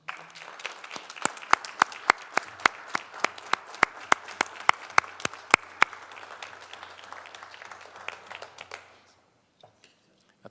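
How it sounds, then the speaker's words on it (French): An audience at a Shawinigan city council meeting applauds a citizen receiving a certificate, a steady round of sharp, distinct claps lasting about nine seconds before fading out, with a few stray claps afterward. "je vous invite à l'applaudir"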